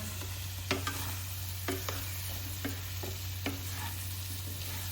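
Amla and four or five green chillies are stirred in a pan for pickle. A spoon scrapes and clacks at irregular intervals over a steady low hum, close and fairly quiet.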